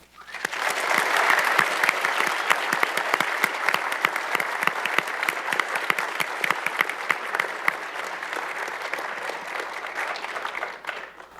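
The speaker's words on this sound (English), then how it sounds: "I wonder if you would join me right now in a round of applause in honor of journalists here and across the country." A large audience at a journalism symposium breaks into sustained applause, a dense, loud wash of clapping that holds steady for several seconds before tapering off and stopping abruptly.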